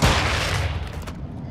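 A flash grenade goes off in a video game, a single loud, close boom that fills the moment and then fades into a short rumbling tail.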